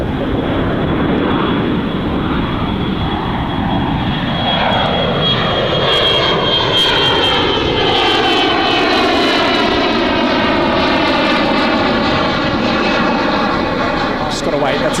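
An aircraft taxiing at Gold Coast Airport gives off a loud, continuous engine roar and whine whose pitch shifts gradually as it moves. Radio voices and talk run underneath.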